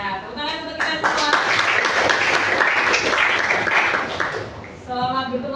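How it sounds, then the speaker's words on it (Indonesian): Applause from a classroom of students, a dense burst of clapping that swells for several seconds, with voices heard before and after it. "tepuk tangan untuk kita semua"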